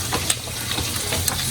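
Spices sizzle and crackle in hot oil while being tempered for moong dal sambar: a close, dense frying hiss with small pops scattered through it, no voices.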